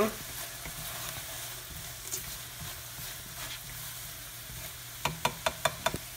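Pad thai ingredients with a little sugar are tossed in a hot pan, a steady sizzle with light scrapes, then a quick run of five sharp spatula taps at the end, close and without talk.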